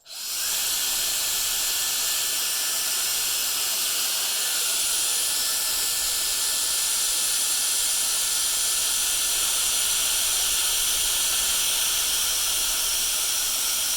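A hair dryer on its constant cold setting blows a continuous, even airy hiss with a faint motor whine, loud and unbroken for the whole stretch with no talking.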